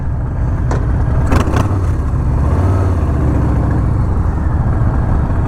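A heavy Harley-Davidson motorcycle engine rumbles loudly and continuously up close, a low throbbing growl with a few brief clicks and knocks over it.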